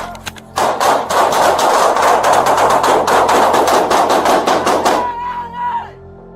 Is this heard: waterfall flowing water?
no